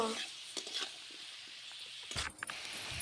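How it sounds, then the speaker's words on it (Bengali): Pointed gourd (potol), overripe and seedy inside, cooking with potatoes in a pan, giving a steady sizzle and frying hiss broken by a few stirring scrapes. "এখন আমি আলু দিয়ে পটলটা রান্না করবো"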